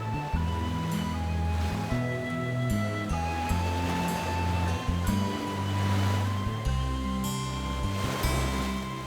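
Ocean surf washes steadily onto a beach where olive ridley sea turtles come ashore, a continuous rushing wash heard beneath prominent music throughout.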